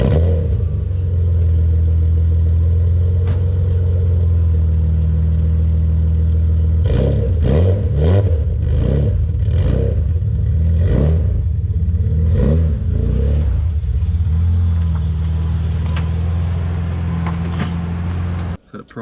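An LS1 V8 fitted in a Nissan Patrol runs under its own power for the first time, a loud steady drone broken midway by a string of sharp revs and clattering bursts.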